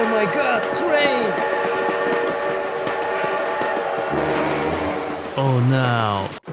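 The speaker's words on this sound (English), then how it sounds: "Oh my god, train." Train passing in the BeamNG.drive driving game, a loud rumbling rail roar with a horn blast, while a voice talks excitedly over it.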